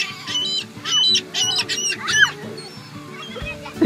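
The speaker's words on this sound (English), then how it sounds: "But the ducks are coming. They want some bread." Several ducks quack and honk nearby in short repeated bursts, growing busier as the birds approach to be fed bread.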